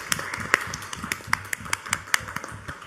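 Scattered claps from a seminar audience at an international event on Venezuela, a thin, uneven patter of separate hand strikes lasting a few seconds rather than full applause.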